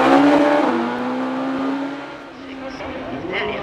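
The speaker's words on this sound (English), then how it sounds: "This car, the Suzuki Hayabusa powered Westfield of Barry Newman," Suzuki Hayabusa-powered Westfield race car accelerating uphill at a hillclimb, a loud high-revving engine note climbing then easing as it pulls away, with a commentator's voice over it.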